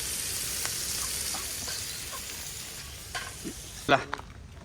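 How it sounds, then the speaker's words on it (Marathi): Kupa fish and garlic fry on a hot tawa, a steady close sizzle running throughout with a few brief clinks and stirring scrapes near the end. "हे बघा कुपा टाकलेला आहे आपल्या आता तव्यावरती. आता थोडा लसूण पण टाकलेला आहे आपण वरच्यावर."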